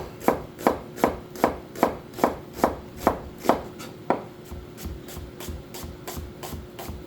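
A knife slicing an onion thinly on a board, with about a dozen steady, evenly spaced chops close up that soften toward the end, no talk.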